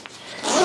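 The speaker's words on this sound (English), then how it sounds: "Zip that guy up." A zipper slides shut on a pocket of a GORUCK x Carryology Guerrilla X GRXC1 21L backpack, one quick close pull that grows louder toward the end, heard alone.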